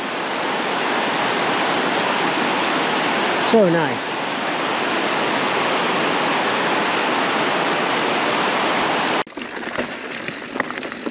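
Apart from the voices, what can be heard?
waterfall in Dupont State Forest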